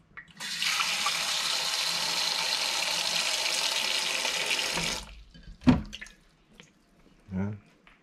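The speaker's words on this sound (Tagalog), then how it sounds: "Lagyan ng tubig." Tap water runs loudly and steadily into a pot for about five seconds, then stops, followed by a few faint knocks and handling sounds.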